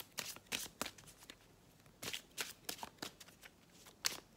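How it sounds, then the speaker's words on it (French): Oracle cards being shuffled by hand for a reading, soft crisp riffling bursts in short uneven clusters, close and quiet with no talking. "Je vais tirer une carte avec l'archange, avec l'oracle, l'archange Gabriel"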